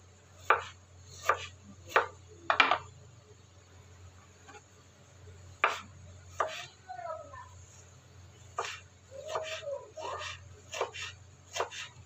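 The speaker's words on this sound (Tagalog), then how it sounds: "Tapos na yung ating paghihiwa." A knife chops tomatoes on a cutting board for a Filipino green mango salad, a series of sharp, close, irregularly spaced knocks over a low steady hum.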